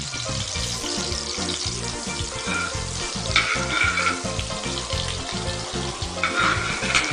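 Butter and a little oil melting in a hot pan for Mumbai street-style pav bhaji, a loud, dense, continuous sizzle close up, with no voices.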